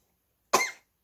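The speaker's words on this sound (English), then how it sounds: "You got cough." A single short, sharp human cough breaks a silent background, close and fairly loud, lasting about a quarter of a second.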